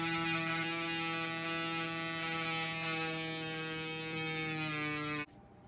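A prototype wound vac suction device runs with a steady, loud electric buzzing hum that holds even for about five seconds, then cuts off abruptly.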